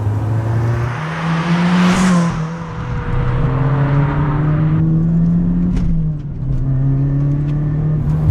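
Supercharged Toyota hot hatch engine accelerating hard past 3000 RPM, a loud, close droning growl whose pitch climbs steadily, drops briefly at a gear change, then rises again with a faint supercharger whine above.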